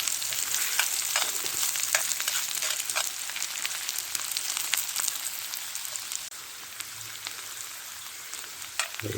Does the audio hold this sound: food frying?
yes